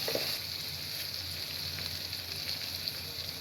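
Eggs seasoned with salt are scrambled in a hot frying pan, giving a steady, close sizzle throughout with no talking.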